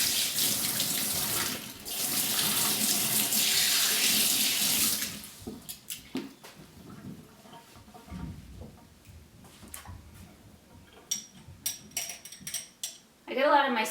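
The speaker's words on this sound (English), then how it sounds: "Just rinse off my tablespoon." A kitchen tap runs loudly for about five seconds while a tablespoon is rinsed under it. The water then cuts off, leaving a few faint clinks and light handling noises afterward.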